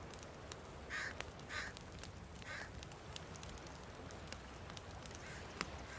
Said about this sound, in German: Ja, Vögel kommen jetzt wieder.